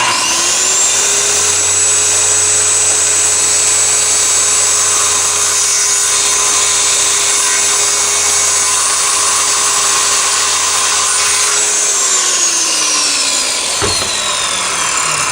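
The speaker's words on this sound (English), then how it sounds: "think about where the saw blade is in relation to what the hell you're cutting" A power saw cuts wood for a kitchen island build in one long, loud, steady whine lasting about twelve seconds, then winds down and stops, followed by a brief knock.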